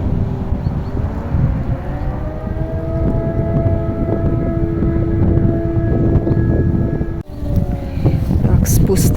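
A distant air raid siren wails steadily over strong, cold wind blowing off a pond and outdoor rumble, its tone holding for several seconds before a brief break.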